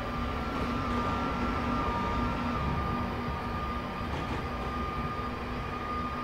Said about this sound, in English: Another train coming the other way.